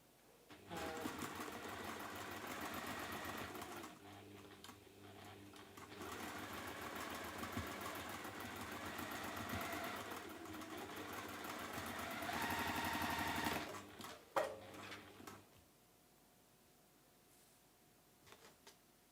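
A sewing machine chain-pieces quilt triangles together in a steady, close mechanical whir that runs for about thirteen seconds, then stops, leaving a few clicks and handling noises in a quiet room.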